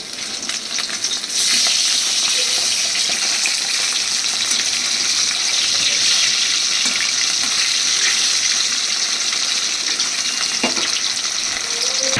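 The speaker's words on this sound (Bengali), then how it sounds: "দেখো মাছগুলো আমি এবার ভাজা করে নিয়েছি" Katla fish pieces fry in a pan of oil with a loud, steady crackling sizzle that runs continuously, close up and without talk.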